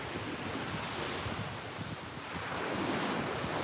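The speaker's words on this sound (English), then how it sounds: "waves are great for relaxation, whether they are rough or smooth" Ocean waves wash in a continuous broad roar with slowly swelling surges, mixed with wind buffeting the microphone, and no voices.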